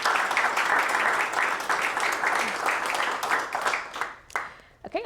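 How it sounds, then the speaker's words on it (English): Dense applause from an awards-ceremony audience honoring a nonprofit finalist, a steady roar of many hands clapping for several seconds before thinning out and fading near the end. "One more round of applause."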